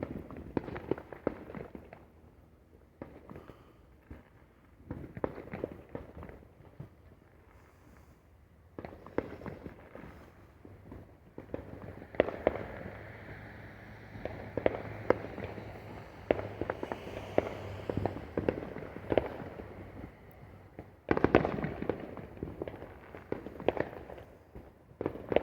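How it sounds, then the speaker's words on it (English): Fourth of July fireworks pop and crackle at a distance through the night, with irregular bursts and scattered bangs, a couple of louder blasts standing out over faint background bustle. "I'm gonna see if I can get some fireworks."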